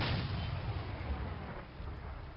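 Tank cannon fire in the video game Medal of Honor Spearhead, a heavy low rumbling blast that rolls and decays over a couple of seconds, loud and alone without talk.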